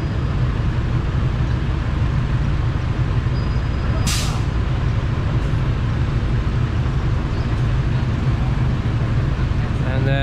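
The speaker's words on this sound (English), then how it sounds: "Like everywhere in the Philippines, always a lot of traffic," Street traffic in Banaue, Philippines, rumbles as a steady, loud roar of vehicles, with one brief sharp air-brake hiss partway through.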